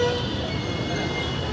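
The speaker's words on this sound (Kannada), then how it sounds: "ಹಾರನ್ ಸೌಂಡ್ ಜಾಸ್ತಿ ಆಯಿತು" Vehicle horns toot amid dense road traffic, a steady wash of engine and street noise with a sustained horn tone near the start and talk faintly mixed in.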